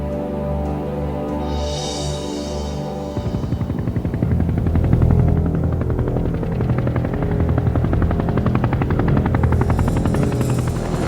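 An attack helicopter's steady rotor thrum gives way to a dense, rapid chatter of heavy machine-gun fire that continues loudly to the end.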